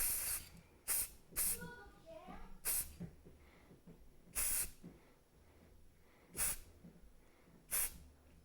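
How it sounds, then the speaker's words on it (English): Short bursts of scanning spray misted onto a 3D-printed part, about seven sharp hissing puffs at irregular intervals, close and fairly loud, with quiet background noise and faint talk between them. "So I sprayed that down"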